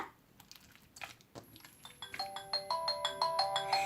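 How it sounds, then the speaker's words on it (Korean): A mobile phone ringtone rises in repeated bright chiming tones that grow louder, starting over soft crackly slime sounds, with no talking. "전화 받고 전화를 받아야겠어요"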